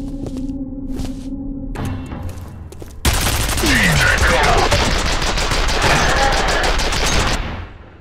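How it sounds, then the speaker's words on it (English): Gunfire in the video game F.E.A.R. starts with scattered shots over an electronic hum, then a loud, continuous automatic barrage bursts in and keeps going for several seconds before cutting off. "So Norton was directly shooting at me?"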